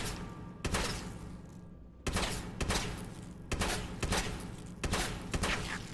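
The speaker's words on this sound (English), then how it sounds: "I get a free shot out with the grenade launcher if I right click immediately after shooting" A grenade launcher fires in Fallout 76: a rapid series of about six heavy, booming shots in an uneven rhythm, each blast sharp and loud, with a short gap early in the sequence.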